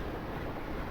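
A train rolls along steadily in the Professor Layton and Pandora's Box video game, giving a continuous, dense rumble with a faint rhythmic clatter, loud and close throughout.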